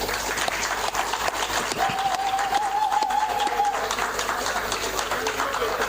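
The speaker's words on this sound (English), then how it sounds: "give yourself a round of applause" An audience at a fire service chief's parade applauds, broad continuous clapping from a large crowd outdoors, with a faint tone and a bit of crowd noise underneath.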